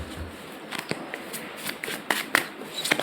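Tarot cards shuffled by hand, a soft riffling, flicking patter with several sharper snaps toward the end, close by and alone without speech.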